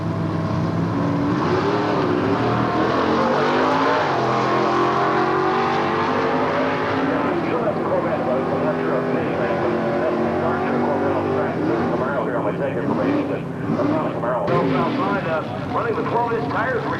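A fuel-injected automatic drag racing car on 12-inch tires roars loudly down the strip at an NHRA Gainesville event, its engine note holding steady and then shifting, with an announcer talking over it throughout.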